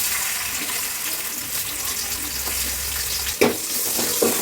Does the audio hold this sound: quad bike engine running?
no